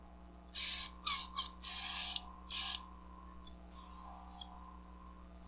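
An airbrush sprays air in several short hissing bursts, then pauses before one softer, longer hiss, close by over a faint steady hum.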